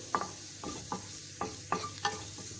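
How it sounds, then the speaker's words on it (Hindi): Fish paratha filling with onion, chillies and coriander cooking on high flame, with about seven distinct spatula stirs scraping the pan at an uneven rhythm over a low background sizzle. "तेज़ आंच पे सिर्फ 2 मिनट हम इसको पकाएंगे"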